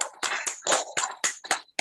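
Warm applause for newly installed leaders at a Toastmasters club induction, a burst of group clapping filling the room without pause, loud and close, swelling in uneven waves.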